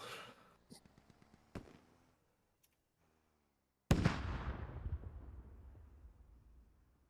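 A single grenade blast in the tactical shooter Squad lands near a forward operating base: a sharp, loud boom with a long rumbling decay, following quieter scattered in-game noises and brief silence.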